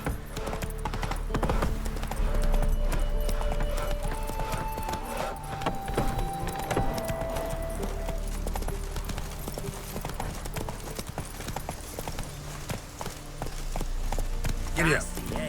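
Horse hooves clip-clop and gallop in The Witcher 3 video game, a steady run of hoofbeats under game music, with a voice talking over them and occasional clinks.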